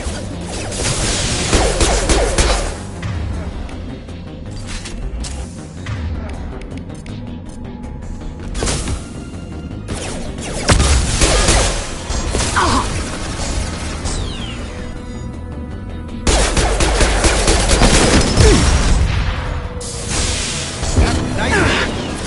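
Weapons firing in Mass Effect 2 combat, bursts of loud impacts and whooshing blasts recurring in several heavy clusters over a dense game soundscape, with a voice speaking between shots.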